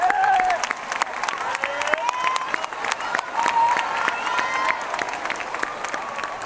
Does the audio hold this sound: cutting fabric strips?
no